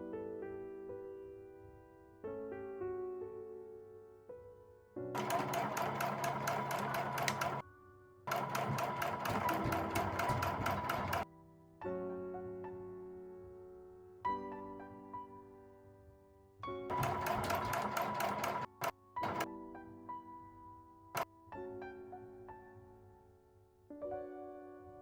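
A sewing machine stitches bias binding onto the ruffled edge of a tablecloth in several bursts of steady mechanical whirring. Quiet pauses break up the runs, and soft humming tones fill the gaps between them.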